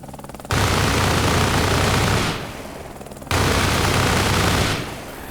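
Helicopter strafing-run gunfire in the Arma Reforger video game comes as two long, loud bursts of dense, continuous fire, each lasting about two seconds and separated by a short drop to quieter rumble.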